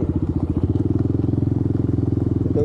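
Motorcycle engine chugging at low speed with a fast, even thumping pulse on an offroad route, close and fairly loud, with light clatter and a brief rise in pitch near the end; no talking.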